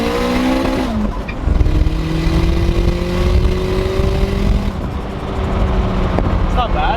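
A boosted Honda K20 engine in a Civic pulls on a dyno from about 3,500 RPM, a loud droning rev with rising tones that climbs steadily across the run, close and sustained.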